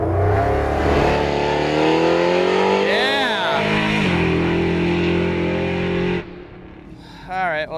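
A nitrous-fed muscle truck launches down a drag strip, its engine roaring loud and close as it revs through gears with tire spin, then fading away down the track while people talk nearby.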